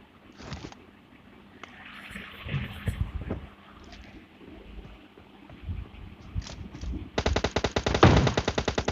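AKM assault rifle fire in PUBG Mobile Lite ends the clip in a rapid, loud automatic burst, after a single early shot and a few scattered distant cracks over wind-like game ambience.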